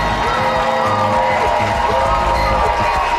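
A crowd cheers and roars at a live sports event, a dense, steady wash of voices and whoops that stays loud and continuous throughout, with an announcer's voice talking over it.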